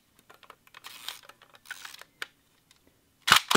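A Hasselblad lens shutter fires at 1/500 second: faint scattered ticks and handling noise, then one loud, sharp mechanical snap close up near the end.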